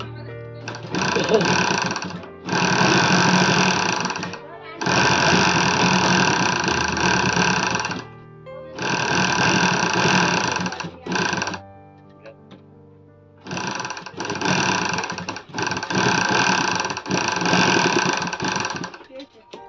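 Sewing machine stitching a nightie, several loud, close bursts of rapid mechanical whirring separated by short pauses, with a voice talking over parts of it.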